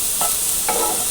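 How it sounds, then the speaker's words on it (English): Mushrooms sizzle in a hot pan, with two brief scraping stirs of a spoon over a steady frying hiss. "I had some mushrooms I wanted to use up, so I figured, I'll just throw those in there and make a mushroom dish."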